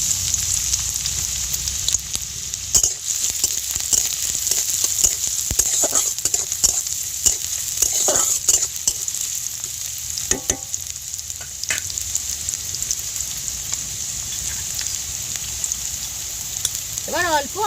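Chopped onion hits hot white oil in a wok and fries with a steady, crackling sizzle, broken by frequent stirring scrapes and clanks throughout.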